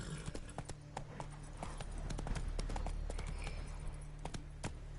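Roach, Geralt's horse in The Witcher 3: Wild Hunt, gallops with steady, rapid clip-clop hoofbeats that stay close and loud throughout.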